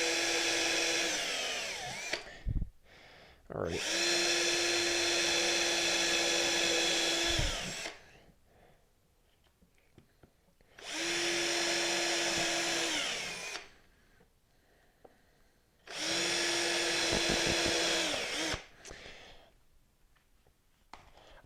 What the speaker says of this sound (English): I'm just gonna pre-drill all these holes